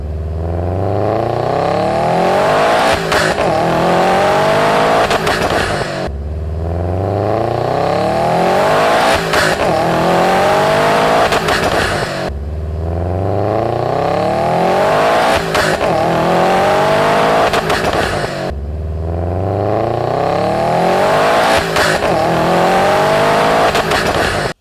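A loud car engine climbs through the gears in repeated surges, each revving up and then dropping, with a whooshing turbo over the roar.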